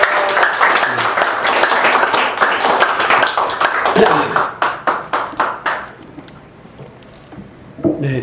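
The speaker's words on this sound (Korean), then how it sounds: "우리 성중영 목사님 나오실 때 뜨겁게 환영의 박수 드립니다." Audience applause welcomes a retired church pastor to the stage at a lecture event, dense clapping for about six seconds that thins into scattered claps and a brief pause, with a voice speaking over it at the start.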